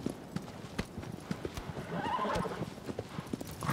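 Horse hooves clip-clop at a fast, rhythmic gallop in the video game Shadow of the Colossus, with a brief whinny midway, moderately loud and steady throughout.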